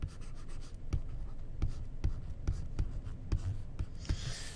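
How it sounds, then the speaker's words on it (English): Writing by hand on a board while working through a physics center of mass problem, with short sharp strokes and taps recurring in an uneven rhythm, close and moderately loud with no talking. "So let me write the left hand side first."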